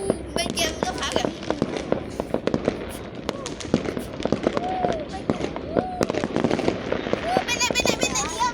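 Rapid crackling fireworks and firecrackers burst continuously at Vietnamese Lunar New Year celebrations, dense popping and sharp bangs throughout with whistling rockets rising, while people talk and shout nearby.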